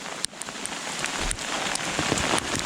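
Hail pelts a BCB Crusader MK2 tarp shelter during a storm, a steady dense patter of hard drumming impacts with occasional sharper cracks, close and continuous.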